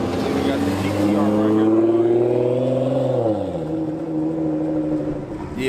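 A Nissan GT-R engine revs loudly close by at a car meet, its exhaust pitch climbing, holding, then dropping back to a lower rumble as the revs fall.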